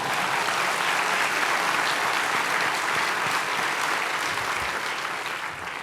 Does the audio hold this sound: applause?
yes